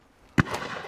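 A single sharp shotgun report on a driven game shoot, one loud close bang followed by a brief echoing tail.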